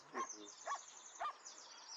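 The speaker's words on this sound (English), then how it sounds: "So you can just hear the frequency of the bark is a bit spaced." A working-line German Shepherd dog gives three spaced barks at a slow, even rhythm, heard at a moderate distance against a quiet background.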